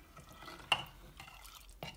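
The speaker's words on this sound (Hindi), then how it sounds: "इसको अब अच्छी तरह से मिक्स कर देंगे।" A spoon stirs whole black lentils and water in a small pressure cooker: quiet swishing with a sharp metallic clink against the pot and another scrape shortly after.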